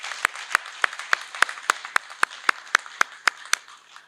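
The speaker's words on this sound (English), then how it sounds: "give a round of applause to the staff again who made this achievement possible" A few audience members at a graduation ceremony clap in a steady, slightly uneven rhythm, each clap crisp and distinct against a quiet room.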